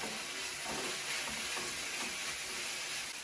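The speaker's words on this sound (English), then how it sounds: "Now we can add our carrots." Carrots stir-fried in a pan for a Chinese dish, a steady close sizzle with soft stirring scrapes running continuously, no talking.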